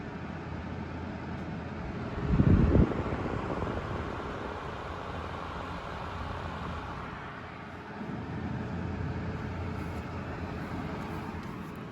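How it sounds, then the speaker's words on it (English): A Winix air washer and purifier runs its fan on the high setting, producing a steady, soft whooshing hiss of constant level with no talking, apart from a brief louder bump near the start. "So it definitely makes a nice little white noise on high."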